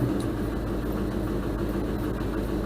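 A 1973 Ford Torino Sport engine, long left sitting, idles just after its first start, a steady low rumbling drone with a constant mechanical churn, close and continuous throughout.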